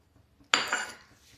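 A metal kadhai is set down among cooking utensils in a home kitchen: one sharp metallic clank followed by a brief ringing rattle that fades within half a second.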